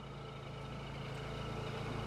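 A Honda EU7000iS generator runs with a closed garage door, its exhaust giving a steady, low, babbling engine drone that holds constant throughout with no talk.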